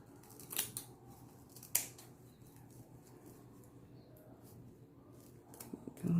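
Scissors snipping off excess material while assembling a handmade spa gift kit, a few sharp isolated cuts over a quiet room background.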